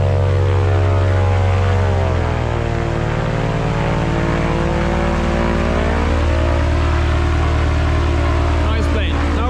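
A small propeller airplane drones loudly and continuously nearby, its engine pitch sliding and shifting as it passes, with no talking heard.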